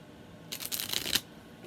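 A small tarot deck with stiff cards that stick together, shuffled up close in one quick papery riffle lasting under a second, with quiet before and after.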